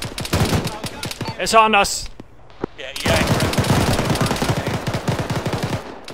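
A BRDM armored vehicle's machine gun fires in a military video game: a short, rapid burst of shots rattles between excited voices talking over it.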